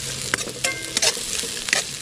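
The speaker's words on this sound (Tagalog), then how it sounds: "Haluin muna natin" Fish fries in a pan at an outdoor forest campsite, with a steady sizzle under several scraping, clattering stirs of a utensil against the pan, close and fairly loud.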